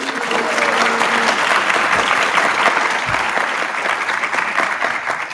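A graduation crowd breaks into loud, dense applause mixed with cheering, a continuous wash of clapping that stays strong throughout and eases only slightly toward the end.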